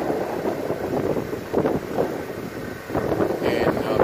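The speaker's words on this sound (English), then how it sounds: "It's extremely windy." Strong wind buffets a microphone outdoors at a house-painting job in Mayer, Arizona, producing a steady, gusting low roar that swells and dips over a few seconds.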